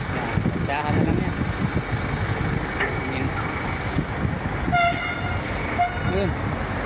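An LRT light rail train rolls past in a hot city street in the Manila area near Parañaque and Pasay, a steady rumbling roar with a short horn toot near the end and scattered voices in the background.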